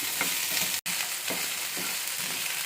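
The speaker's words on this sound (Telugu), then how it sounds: "క్యారెట్, పచ్చిమిర్చి, క్యాప్సికమ్, బీన్స్ అన్నీ వేసి బాగా మగ్గనిద్దాము." Carrot, green chili, capsicum, beans and onion sizzle in a pan for kara bath upma, a steady loud frying hiss broken by soft stirring scrapes.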